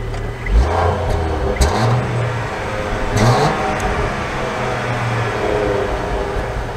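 A 2022 Range Rover with an inline-six engine pulls away, its engine note rising and falling through a few gentle revs, heard from inside the cabin at a moderate, steady level.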